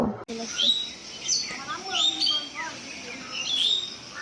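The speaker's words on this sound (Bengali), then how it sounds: "আর গ্রামে যে পাখির শব্দ হয় কিচিরমিচির সেটাও শুনতে পাবেন আপনারা ভিডিওতে" Village birds chirping, several short high tweets and calls scattered through the clip over a soft background, fairly faint, with a voice speaking underneath.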